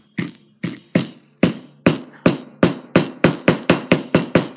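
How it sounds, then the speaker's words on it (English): Hammer tapping down a wire prong ring on a jewelry-making bench, about fourteen sharp metallic strikes that start spaced apart and speed up into a quick, steady rhythm, loud and close with no voices. "I'll get the hammer and just..."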